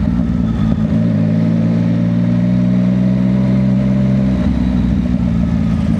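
Yamaha MT-09 SP motorcycle fitted with an Orion Precilla exhaust, engine running loud and close at low RPM with a steady throaty drone and a small crackling pop near the end before settling.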